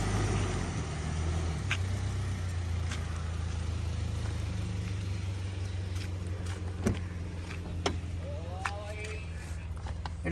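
A 2015 Toyota Land Cruiser Prado TX Limited with 43,000 km drives along, its engine and road rumble forming a steady low drone heard from inside the cabin. Occasional clicks and a brief squeak sound near the end.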